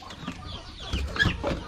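Farm chickens clucking in short, soft bursts, a few hen calls rising and falling close by with faint background rustle and no talking.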